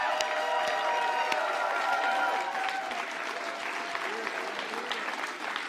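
A crowd at a Green Party election-night gathering in Saanich-Gulf Islands applauds and cheers, steady, dense clapping with whoops mixed in that eases slightly toward the end, with voices audible within the applause.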